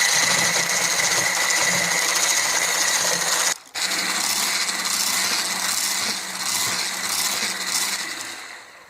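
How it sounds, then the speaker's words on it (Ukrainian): A steady, high-pitched electric mixer motor whirs continuously while whipping eggs and sugar, briefly cutting out for a moment before resuming its constant mechanical hum. "І зіб'ю цю масу спочатку блендером або міксером."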